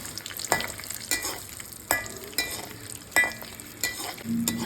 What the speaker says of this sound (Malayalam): ആദ്യം നമുക്ക് കശുവണ്ടി ഫ്രൈ ചെയ്തെടുക്കാം